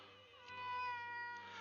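A pet cat named Eddie lets out a single drawn-out, tonal meow, faint and close, with no other sounds around it.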